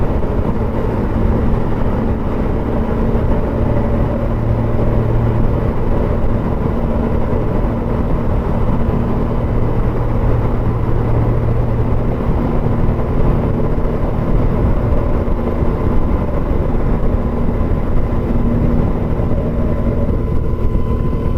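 Constant loud roar of a motorcycle on the move, with dense road and rear tyre noise droning steadily throughout.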